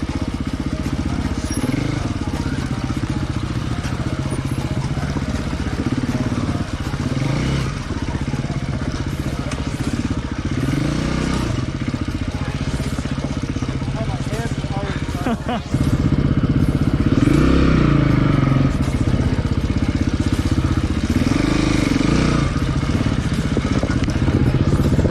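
A KTM 250 EXC-F four-stroke hard enduro motorcycle rides through rocky terrain, with a steady engine drone that swells and surges as throttle changes and a louder stretch toward the end, and a voice talks over it.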